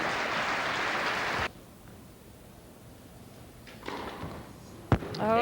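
At the 1997 Philadelphia women's tennis final, Martina Hingis versus Lindsay Davenport, loud crowd applause stops abruptly, then after a hush comes a single sharp, punchy serve strike from an indoor court.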